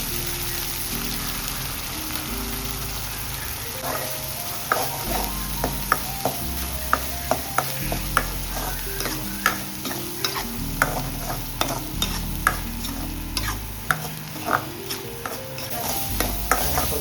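Green masala paste for mutton being sautéed with onion paste in a pan, a continuous sizzle punctuated by many sharp spatula scrapes and knocks in an uneven rhythm, close and clear, with no talking.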